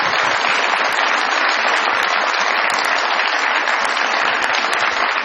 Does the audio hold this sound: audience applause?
yes